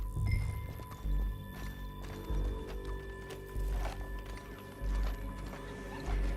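Horse hooves clip-clopping at a gallop in the video game Red Dead Redemption 2, with steady rhythmic thuds, tack rattling and a low game soundtrack drone underneath.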